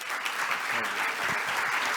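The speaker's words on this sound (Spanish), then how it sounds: "Ese aplauso se lo merece." Steady audience applause at a Spanish-language leadership event, a continuous moderate wash of clapping throughout.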